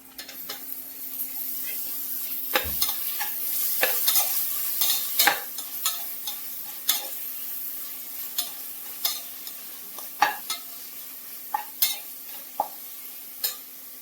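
Onions sizzle steadily in a pan as a spoon scrapes and clacks against the metal in irregular strokes, the frying hiss constant beneath the repeated stirring knocks.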